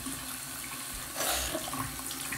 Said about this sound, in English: I'll turn the water off because why not save water?